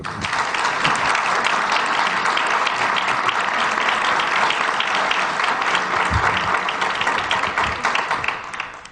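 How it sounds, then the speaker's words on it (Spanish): A hall audience gives loud, steady applause to welcome a speaker at a Reiki association talk in Jumilla, dense clapping holding for the whole stretch and thinning slightly at the end. "recibámoslo por favor con un fuerte aplauso"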